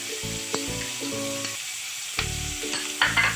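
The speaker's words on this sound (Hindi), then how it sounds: "थोड़ा सौते करूँगी। अभी डाल दूंगी एक एक करके ये जो अदरक" Ginger sautéing in a pan with chopped onion for a Kerala-style South Indian fish stew, a continuous loud sizzle broken by a few stirring clatters and tonal knocks.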